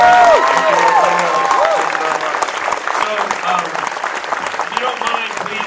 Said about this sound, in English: give a round of applause for our guests